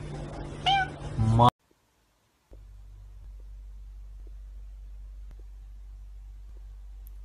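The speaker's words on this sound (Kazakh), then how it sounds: "Қанеки айта қойшы мяу" A short, close cat meow rises and falls at the start, followed by a brief silence and then a low steady hum with faint clicks.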